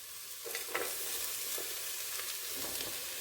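Chopped onion, celery and carrot fry in a pan for a chili con carne, giving a steady, close sizzle with a few soft stirring scrapes over a few seconds.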